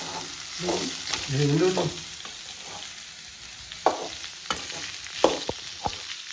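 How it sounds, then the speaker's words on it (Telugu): Squeezed beans being stirred through onions in a frying pan, a soft steady sizzle under scraping spoon strokes, with a few sharper clinks of the utensil against the pan near the end. "మనం స్క్వీజ్ చేసుకున్న బీన్స్ ఇందులో వేసేద్దాం. ఇందులో వేసేసి కలగద్దాం."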